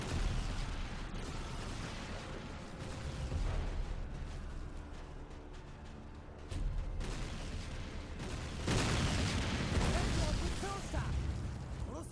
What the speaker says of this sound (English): Throwing a grenade here